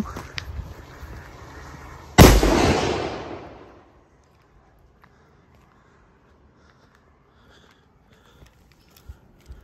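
A single sharp bang from a Dumm Bumm 5g firecracker bursts out loudly, its noisy blast decaying over about a second into near silence.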